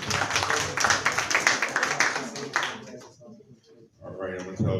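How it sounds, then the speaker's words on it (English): Audience applause at a candidate forum, a burst of loud clapping from a crowd that dies away after about three seconds, followed by a brief voice and a short renewed flurry. "give him another round of applause"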